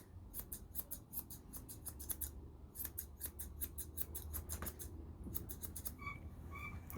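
Grooming scissors trim a poodle's top knot, making rapid bursts of crisp snipping close up, clustered in quick runs with short gaps, faint and with no talk.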